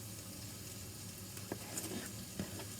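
Onion sautés in extra virgin olive oil for a vegetable giambotta, a soft steady sizzle close in the pan with a few light stirring scrapes.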